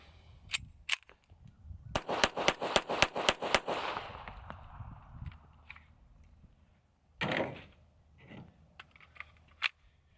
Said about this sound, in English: we need to do some proper high point shooting